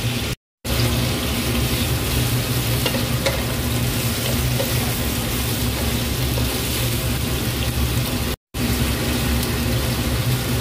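Chunks of beef brisket fry steadily in a pan, a dense continuous sizzle with occasional stirring scrapes, loud and close, broken by two brief silent cuts.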